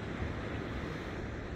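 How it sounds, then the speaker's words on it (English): Wind buffets a camera at Kalk Bay Harbour with a dense, steady roar of rushing noise, close and unbroken throughout. "The wind's blowing this camera all over."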